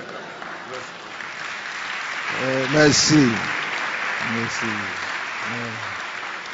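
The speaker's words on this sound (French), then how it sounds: "Je ne sais pas pourquoi tu applaudis." Congregation applauding at a church celebration service, a steady wash of clapping throughout while someone speaks briefly over it.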